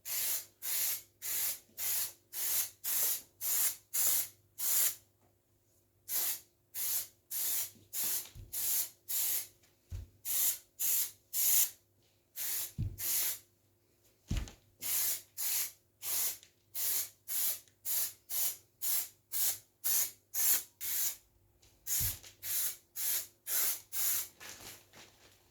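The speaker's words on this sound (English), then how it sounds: "The actual action is quite a nice spray pattern." Spray adhesive hissing from a nozzle while a car headliner is re-made for a Rover 45, about thirty short, sharp bursts in a steady rhythm with brief gaps, close and crisp, with no talking.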